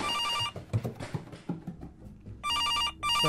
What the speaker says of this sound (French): Quelqu'un qui m'appelle au téléphone.